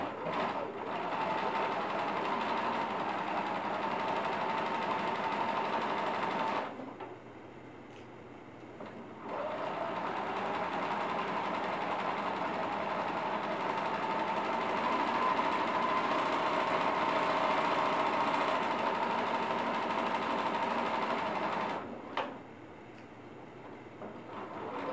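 A sewing machine stitches the flap of a fabric tablet sleeve at a 1/4 inch seam allowance, a steady rapid whirring run that pauses briefly twice before resuming, close and clear without talk.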